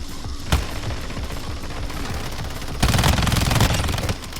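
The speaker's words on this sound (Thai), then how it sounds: "ใครยิงวะ" Gunfire in the video game Warzone Mobile: a single sharp shot, then a loud rapid burst of automatic fire near the end, over a low game ambience.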